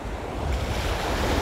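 Sea waves and strong wind on the Anapa shore in the early morning, a dense continuous roar of surf with gusty wind buffeting the microphone, close and steady throughout.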